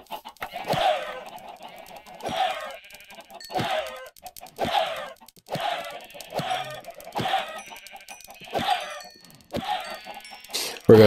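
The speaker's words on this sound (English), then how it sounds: "we'll also go ahead and take out some of these chickens." Minecraft chickens cluck repeatedly in short bursts at roughly regular intervals, fairly close and clear with no talk over them.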